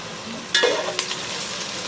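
Green chillies, mustard seeds and cumin hit hot oil with a sudden sharp crackle and splutter, then settle into a steady close sizzle.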